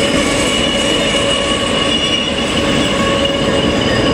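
Three Chinese Dongfeng diesel locomotives, one at the front and one at the rear, haul rail wagons for the Bandung high-speed railway near Jatiluhur, Purwakarta, producing a loud, steady rumble with engine drone and high metallic wheel squeal close by.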